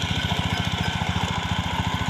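A farm tractor's engine runs nearby with a steady, rapid chugging throb, loud and unbroken, with no voices.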